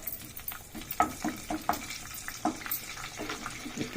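Ginger garlic paste sizzles and spatters in a hot pan, a close, steady crackle with soft stirring scrapes and no talking.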